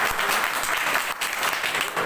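Dense, steady applause from a crowd filling the whole moment, continuous clapping with no pauses and no voices standing out.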